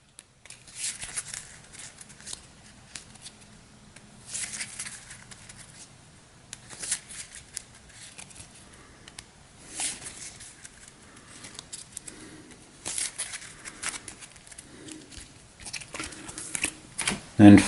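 A deck of Hero Realms cards is shuffled on a tabletop, giving soft repeated riffling bursts with quiet gaps between them, close and fairly faint.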